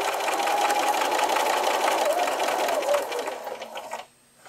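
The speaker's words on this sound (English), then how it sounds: "Sew around the edge of the runner with a 1/4 inch seam allowance" A sewing machine stitches the seam around the edge of a fabric table runner, a fast, steady mechanical whir that slows near the end and stops, followed by a brief quiet pause.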